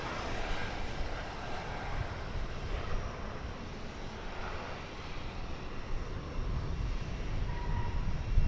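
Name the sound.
Embraer 175 jet airliner arriving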